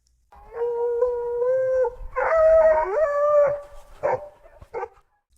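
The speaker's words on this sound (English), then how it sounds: "Now, the AI added dog sounds" AI-generated dog sounds, a series of drawn-out howls with rising and falling pitch followed by a couple of short yelps, close and clear against near silence.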